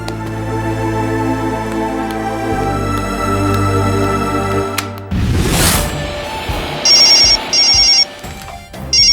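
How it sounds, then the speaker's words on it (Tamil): Cellphone ringtone in a Tamil TV drama scene, a bright repeating electronic ring that cuts in after music and sounds in several loud bursts near the close. "செல்போன் அடிக்குதுக்கா"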